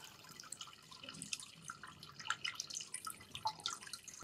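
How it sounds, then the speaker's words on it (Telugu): Spring water flows and trickles at the Kishan Bagh temple in Kashibugga, a close, irregular patter of drips and splashes over a soft running-water wash, with no voices. "ఆ వాటర్ సౌండ్ కూడా మనం అబ్జర్వ్ చేసి నేను మీకు వినిపిస్తాను చూడండి"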